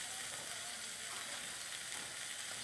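Cut aubergine pieces fry in hot oil with ground turmeric, giving a dense, constant sizzle up close with no voices.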